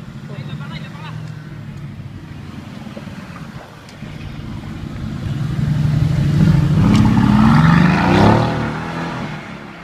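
A Porsche-style GT4 sports car's engine revs and builds in pitch as it drives past on a street among supercars, growing louder toward the end over steady background noise, with a voice talking faintly underneath.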